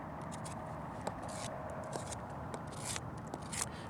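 A sharp Mora knife scrapes along a tree branch in close, rapid, crackly strokes, with small ticks and rasps repeating steadily for several seconds and no talking.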